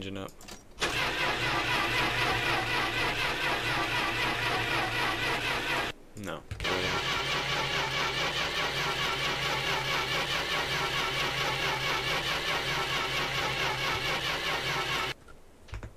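A car engine in the My Winter Car video game cranks and catches into a loud, steady mid-pitched run, cuts out briefly, then restarts and runs again before stopping; a voice speaks briefly.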